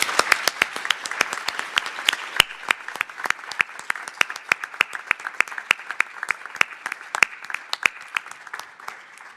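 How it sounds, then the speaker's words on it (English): Audience applause for panelists at the close of a main-stage session at a nuclear energy forum: sparse, scattered claps, each sharp and distinct, spread across a small crowd and holding steady throughout. "I would like a round of applause for our wonderful panelists"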